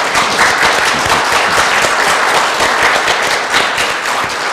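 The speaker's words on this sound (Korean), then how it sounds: "큰 박수를 좀 부탁드립니다." An audience at a Korean policy forum applauds a vice minister with steady, dense clapping that fills the room, loud and continuous from start to finish without speech.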